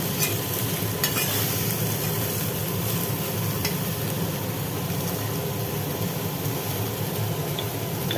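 Nigella seeds and drumstick stems fry in hot oil for a vegetarian poppy-seed dish, a steady close sizzle with occasional stirring, no voices.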